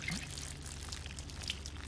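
A bottle being poured out onto the ground in the Project Zomboid video game, a brief, soft trickle of liquid splashing at moderate volume with no talking.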